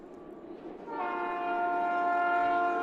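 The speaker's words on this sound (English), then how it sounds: "As you hear a train in the background" A train horn sounds in the distance at a high school baseball game. A long, steady blast begins after about a second and holds to the end over quiet ambient noise.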